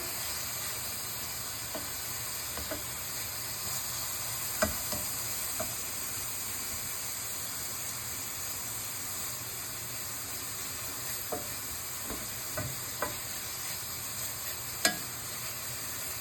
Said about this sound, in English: We now add in the garlic and ginger. And let that cook a bit longer.